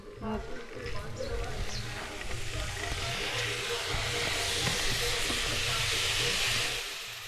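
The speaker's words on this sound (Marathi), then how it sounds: "मोड आलेले जे मूग होते ना ते आपण फोडणीमध्ये टाकले आहेत परतून परतून घेते सोनाली" Sprouted mung beans hiss and sizzle steadily in hot tempering for misal cooked over a wood-fired chulha, the frying noise building and staying loud throughout while a person talks over it.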